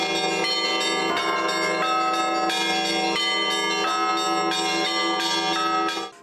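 Church bells rung by skilled bell ringers in a festival belfry in Kyrgyzstan's capital, a loud, dense peal of rapidly repeated overlapping strikes ringing continuously before stopping abruptly near the end.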